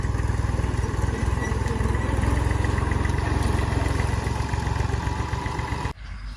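A tractor engine idles and runs on a farm near a sorghum field, a loud steady close chugging drone throughout that cuts off abruptly near the end, leaving quieter background.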